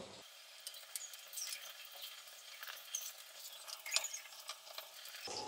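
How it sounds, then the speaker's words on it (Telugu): Chickpeas (chana) frying in a pan, giving a faint, close crackle with light patter and occasional small pops. "ఇప్పుడు మిగతా వాటిని కూడా వేసి ఫ్రై చేసుకుందాం."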